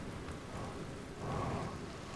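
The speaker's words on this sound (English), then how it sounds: "Is it because of the rain?" Rain falling in the Outer Wilds video game: a steady, dense hiss of rainfall that swells slightly louder midway, with no voices.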